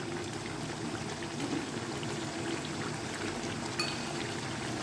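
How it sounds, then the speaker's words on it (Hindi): Tetra pack cream is poured into a white chicken karahi, giving a soft continuous liquid pour and gentle bubbling sizzle at close range, steady throughout with no talking. "अब हम इसमें ऐड करेंगे क्रीम, टेट्रा पैक क्रीम।"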